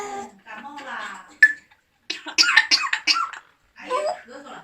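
A pet parrot mimics human coughing, producing several short harsh bursts in a loud, close sequence, with other vocal sounds and a person talking in between.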